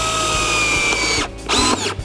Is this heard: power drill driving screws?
yes